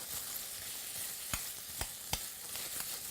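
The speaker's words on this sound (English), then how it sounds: "we're going to saute that a little bit and let that get soft" Onion and green chili sautéing in a pan for besan cheela, a steady close hiss of frying broken by a few soft stirring knocks, without talk.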